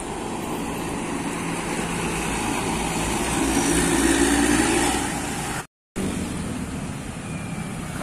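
A D Blindo tour bus passes by on a road in Galendo, Ciamis, its engine rumble swelling to a peak mid-way and then fading, amid steady traffic noise.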